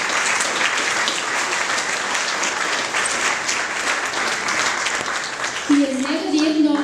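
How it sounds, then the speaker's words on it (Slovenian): An audience at an Interact club charter ceremony in Ljubljana applauds, a sustained crackling round of many hands filling the room, with a voice starting to speak over it near the end. "prosim en aplavz"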